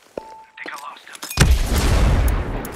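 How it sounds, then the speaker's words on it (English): A grenade explodes in Ghost Recon Breakpoint PvP, a sudden broadband boom about halfway through followed by a sustained loud rumble and debris wash, preceded by quieter scattered gameplay sounds and a short tone. "Grenade out."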